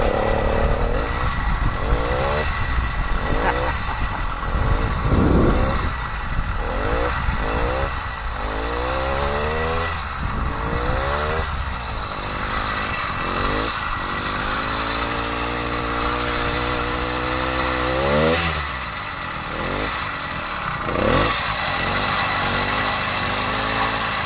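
An 80cc bicycle engine kit fitted to a classic Schwinn idles loudly and unevenly, its two-stroke putter wavering and revving slightly up and down throughout with no talking.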